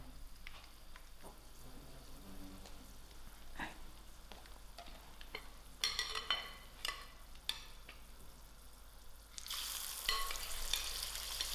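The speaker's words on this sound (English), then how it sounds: "I will allow this fish to cool while my next batch is frying." Fish fries in oil, sizzling and crackling continuously, with scattered pops and brief bursts of stirring or spattering, then a louder hiss near the end.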